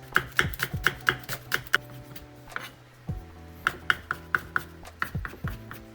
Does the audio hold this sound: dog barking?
no